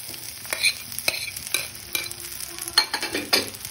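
Cubes of fried boal fish, potato and eggplant being stirred in a pan with fried spice mix, close rhythmic scraping and clacking of a spatula over a soft sizzle, strokes coming roughly every half second.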